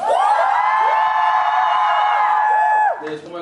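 At a musical theatre curtain call, the audience cheers loudly for the backstage staff. A sustained, high-pitched crowd roar with shrill whoops holds for about three seconds, then breaks off abruptly into a brief scatter of voices.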